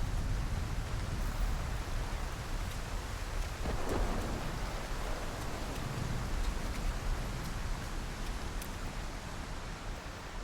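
Heavy rain pours down on a mountain in the survival game The Long Dark, a dense, steady hiss with low rumbling underneath and a brief swell partway through.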